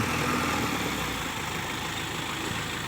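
Kubota M7040 tractor's four-cylinder diesel idling through a racing exhaust, a steady low rumbling throb held close and loud for the whole stretch with no talk.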